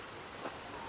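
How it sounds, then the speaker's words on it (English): Rain falls in the medieval video game Pentiment, a soft, even hiss of steady rainfall heard faintly and alone with no voices. "Andreas, stay out of the rain."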